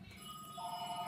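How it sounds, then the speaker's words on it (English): A telephone rings faintly in a room, its steady electronic tone rising partway through the brief moment. "sorry about the phone ringing"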